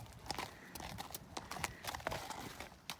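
A horse's hooves clip-clop at a walk on a hard yard surface, an even run of faint, fairly close steps.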